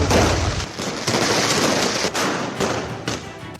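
Firecrackers and fireworks bursting during Diwali celebrations, a dense, continuous barrage of loud cracks and thuds with no pauses, close and overlapping.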